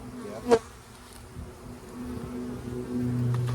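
A honeybee's low buzz hums close by, rising and wavering as it flies, with a brief sharp knock near the start.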